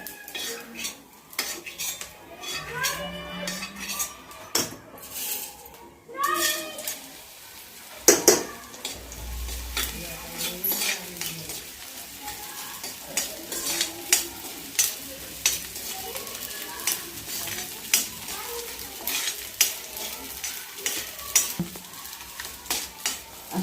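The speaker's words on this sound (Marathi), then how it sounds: "मी सगळा डिंक तळून घेते" Edible gum (dink) fries in hot oil in a pan for laddoos, sizzling steadily while a utensil repeatedly scrapes and clinks against the metal vessel throughout.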